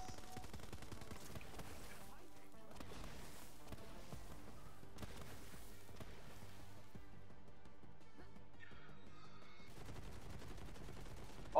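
Rapid assault rifle fire in Borderlands 3, aimed at robots, crackling in dense bursts through the whole stretch at a fairly low level under game music and effects.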